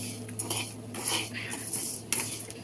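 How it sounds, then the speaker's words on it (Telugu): Sesame seeds and peanuts roast in a pan over high flame while a metal spoon stirs and scrapes them, giving close, irregular clinks and scrapes over a low steady hum. "నువ్వులు, ఏడుశనగగుళ్ళు, హై ఫ్లేమ్లో పెట్టుకుని కొంచెం వేయించుకోండి."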